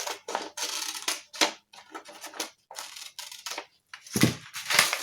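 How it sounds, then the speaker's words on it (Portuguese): Scissors snipping through fabric along a traced line for a pajama blouse pattern, a series of close, crisp cuts in short bursts with brief pauses between. "aqui eu vou cortar na linha de fora, que é maior"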